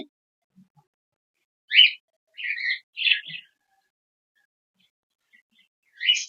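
A weak, sick cockatiel gives a few short, high chirps in a quiet room, spaced irregularly with silent pauses between them.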